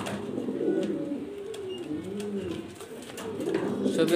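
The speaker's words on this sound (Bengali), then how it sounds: "মালতেজ মাদি কবুতর ভিউয়ার্স" A female Maltese pigeon coos in a steady series of low, rolling calls, close and fairly loud, with only faint background noise.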